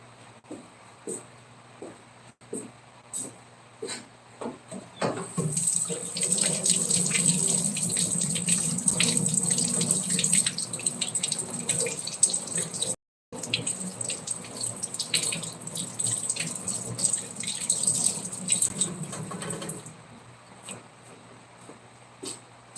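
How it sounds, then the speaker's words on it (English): Water running from a tap into a sink while hands are washed after working with clay, a steady close splashing gush lasting about fifteen seconds, briefly cut off midway, with faint drips before and after. "while I'm washing my hands, you can look at the bone slab"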